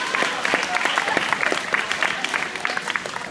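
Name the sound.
graduating students' applause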